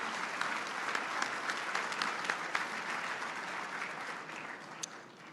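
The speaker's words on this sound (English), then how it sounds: "big round of applause?" Audience applause fills a conference luncheon hall at a winter meeting, a steady dense clatter of many hands that holds for several seconds and tapers slightly toward the end.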